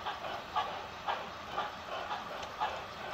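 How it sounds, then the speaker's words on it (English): A model train engine backs down to its train on a layout, giving off faint, soft rhythmic clicks roughly every half second over a quiet hiss of running noise. "Here they're backing to their train."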